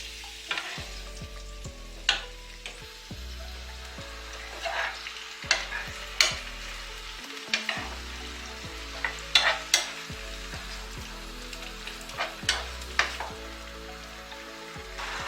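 Shrimp and pineapple fry in a pan under a constant soft sizzle, punctuated by repeated clanks and scrapes of a utensil stirring them over lowered heat, with no talking.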